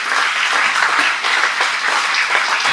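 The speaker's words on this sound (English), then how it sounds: "Give them a round of applause." Loud, close applause from a club audience for a jazz quartet, dense and continuous clapping that holds steady for a few seconds.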